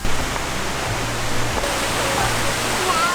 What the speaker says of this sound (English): It's actually a triple waterfall.